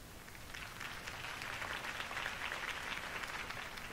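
Crowd applause in the Batman: The Telltale Series video game, a steady, fairly faint wash of many hands clapping that carries on evenly throughout.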